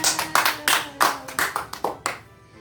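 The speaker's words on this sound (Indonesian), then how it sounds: "beri tepuk tangan" Fourth-grade primary schoolchildren clap their hands in a classroom, producing a rhythmic burst of about a dozen crisp claps in a patterned beat before stopping.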